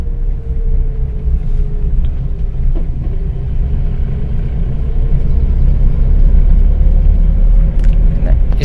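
A car engine revved with the clutch held in, a close low rumble with a faint rising whine and steady road noise, no voices.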